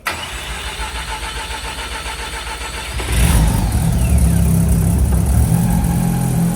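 A custom rotary car engine cranks and catches about halfway through, then settles into a loud, steady idle that stays close and continuous.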